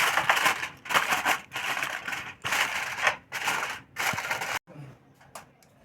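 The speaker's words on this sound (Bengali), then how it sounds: "আমি একটা ফয়েল পেপার নিয়েছি, তো এটা দিয়ে এটা মুড়ে দেব।" Foil paper being wrapped around a pudding bowl, a series of loud crinkling, crushing bursts close by in uneven bunches, then a short quieter stretch with a few soft rustles.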